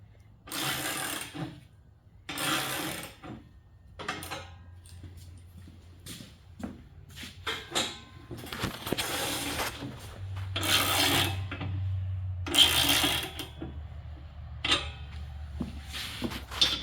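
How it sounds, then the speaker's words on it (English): A 16 gauge stainless steel sheet is worked through a roller, giving repeated scraping, grinding strokes and bursts of metal friction, with a low mechanical hum rising at times. "So now watch these two edges as you roll it through."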